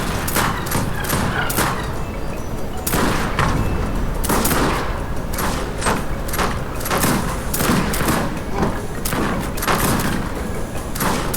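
Battle in Age of Empires 3 with line infantry and a culverin: dense volleys of musket gunfire and cannon booms crackle and thump in rapid, overlapping bursts, loud and continuous with no speech.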